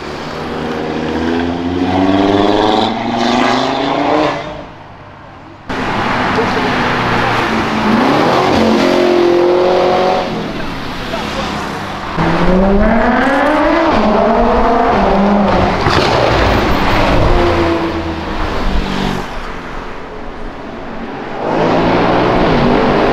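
A Chevrolet Celta revs hard during a burnout on a city avenue, its loud engine climbing and falling in repeated sweeping pitches, with a brief drop around five seconds before the roaring resumes close by.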